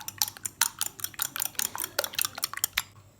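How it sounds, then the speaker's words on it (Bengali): A fork beats two eggs in a bowl with quick, close, irregular clinks and taps of metal against the dish, a steady rhythmic whisking heard alone without talk. "2টা ডিমকে আমি কাঁটা চামচের সাহায্যে ভালো করে কেটে নিব।"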